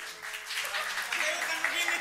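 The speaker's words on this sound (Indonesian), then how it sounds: "Ini mumpung di studio bisa tepuk tangan dulu." Studio audience applause on an Indonesian sketch-comedy show, moderately loud and steady, with some voices mixed in.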